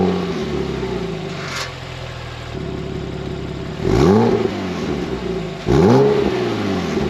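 A Porsche Cayman's 3.4-litre flat-six with a valved sports exhaust revs twice in sharp, rising blips, each a loud swell of engine note that falls back to a steady idle between them.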